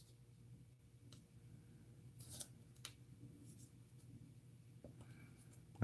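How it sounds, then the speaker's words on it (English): Scissors snip through the two-layer backing of a Brutus Monroe rose garden shaker card, a few quiet, scattered cuts and clicks against a faint low room hum, with no talking. "Let's try my scissors first."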